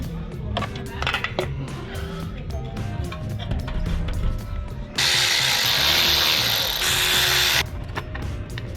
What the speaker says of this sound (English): Tying down both drain plugs and you should be pretty much done down here.